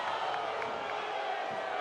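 Football stadium crowd at a Sacramento Republic FC versus San Antonio FC match, a steady broad murmur of thousands of fans reacting with displeasure, sustained and fairly distant throughout with no clear individual voices.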